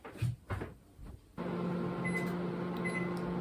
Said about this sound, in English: the microwave going off